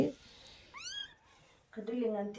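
A newborn kitten gives a thin, high-pitched meow, close and faint, with a person talking briefly just before and after.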